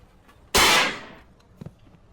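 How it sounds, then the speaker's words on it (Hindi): A small firecracker bursts once with a loud, sharp crack whose sharp attack fades over about half a second, followed by a faint brief knock. "एक छोटा बच्चा इस बूढ़े आदमी को डराने के लिए एक छोटा सा पटाखा फोड़ता है।"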